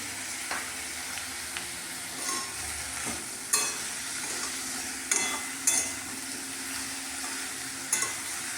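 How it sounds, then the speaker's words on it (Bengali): Spices with cumin powder, chili powder and salt sizzle softly in a pan, with a steady low fry punctuated by several sharp scrapes and clinks of a stirring utensil against the pan. "মশলাগুলো 10 মিনিট কষাবো।"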